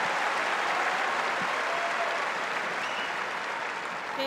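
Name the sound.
crowd applause for a winning tennis shot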